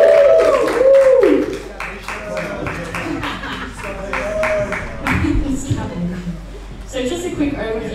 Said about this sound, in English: Everybody give a round of applause to Scout as well